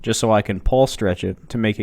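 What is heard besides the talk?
No everyday noise stands out behind the speech.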